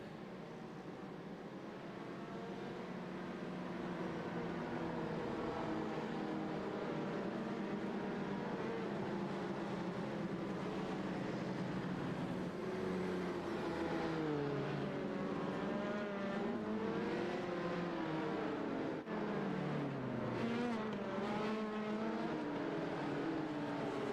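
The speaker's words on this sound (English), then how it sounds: "the safety car is out and leading the car around the track" In the iRacing sim at Watkins Glen, a pack of race cars drones steadily behind the safety car, engine tones rising and falling as they pass. The hum is moderately quiet and continuous, with no talking.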